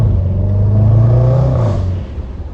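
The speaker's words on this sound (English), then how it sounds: "those upshifts are absolutely unbeatable on these 5 litres" The exhaust of a 2016 Range Rover Sport SVR with its 5.0 V8 drones loudly as it pulls, and the pitch climbs before dropping with an upshift. The engine then settles into a lower rumble.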